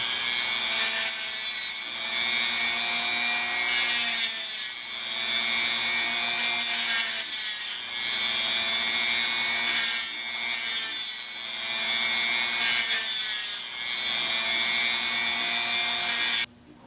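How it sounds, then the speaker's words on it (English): A Dremel rotary tool roughs up a surface so epoxy will grip, sounding as a close, loud high-pitched grinding whir in repeated bursts of a second or two, separated by quieter gaps. "I'm going to go ahead and use this Dremel. Put a few little rough marks on it for the epoxy to grab."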